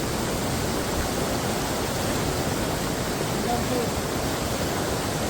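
A waterfall in Coorg gives off a dense, constant roar of rushing water, loud and close, with no break from start to finish.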